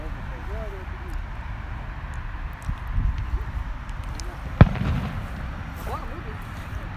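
Fireworks at a small pre-Fourth of July celebration pop and crack with scattered bursts, one sharp loud report standing out, heard from a distance over steady outdoor background noise.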